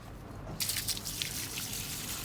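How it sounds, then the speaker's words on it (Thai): Running water rinses white latex sap off a freshly cut Euphorbia inconstantia offshoot, a steady close trickle and splash that starts abruptly after a brief quiet moment and continues to the end. "แล้วเราก็จะมาทำการ ล้างน้ำยางออก"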